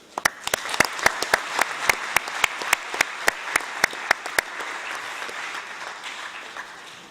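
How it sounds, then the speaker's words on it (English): Applause in a hall at the opening session of a UN Environment high-level segment: sharp, distinct claps ring out close by over a broad crowd clapping, the sharp ones thinning after about four seconds while the general applause fades. "Please give them a round of applause."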